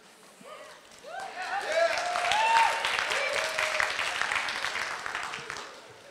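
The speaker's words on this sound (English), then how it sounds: "I just said that to get the applause" Applause from a crowd at a talk by a Hawaii teachers' union president on teacher pay, swelling to a loud peak and then tapering off, with a voice speaking over the start.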